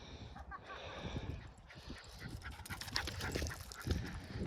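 A dog panting on a hilltop hiking trail, quick breathy huffs repeating close by over outdoor wind and footstep noise, with no talk.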